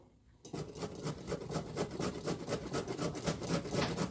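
Sugar beet is grated by hand for borscht, a close, rhythmic rasping scrape with quick repeated strokes that continues steadily after a brief quiet start.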